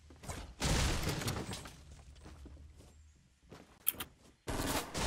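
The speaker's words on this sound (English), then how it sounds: "Are they shooting at you?" Fortnite gunfire comes in a few loud broadband bursts, a long one early and another at the end, with softer shuffling and thumps between them and no talking.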